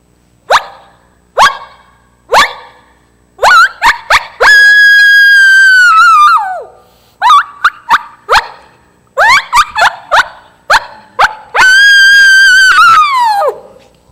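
Coyotes yipping and barking in sharp, loud bursts, broken by two long rising and falling howls with whining edges, all close and with no talk.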